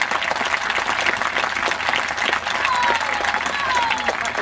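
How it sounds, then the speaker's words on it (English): A room full of audience members breaking into sustained applause, dense and continuous clapping with a few voices mixed in, steady for several seconds. "Well worth a round of applause."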